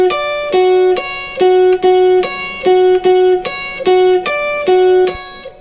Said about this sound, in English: for this song we'll need to learn one melody riff. It's going to sound something like this.